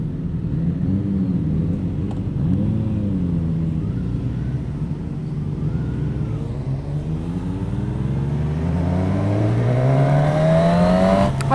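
A Suzuki Katana motorcycle engine revs and rises in pitch as it rides past, a loud steady drone with shifting tones building toward the end, no talk.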